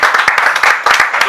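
Audience applause at a church sermon gathering, a short burst of dense clapping mixed with voices and cheering, fairly loud and close.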